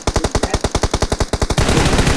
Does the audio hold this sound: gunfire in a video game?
yes